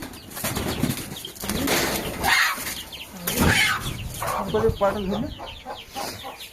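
A pigeon released by hand beats its wings in a few quick broadband flurries, close by, mixed with clucking fowl and people talking nearby.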